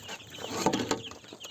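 Desi free-range chicks and hens in a farm batch of fifty make a brief, dense murmur of clucks and peeps, close and continuous over a second or two, with no talk.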